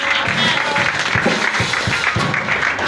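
A church congregation applauds together in steady, close, continuous clapping that fills the whole stretch alongside music, with no talking heard.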